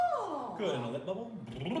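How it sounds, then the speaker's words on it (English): A lip bubble vocal warm-up from an adult mezzo-soprano during a lesson, a continuous buzzing lip trill that slides down and back up in pitch across a couple of seconds, close and steady. "and a lip bubble."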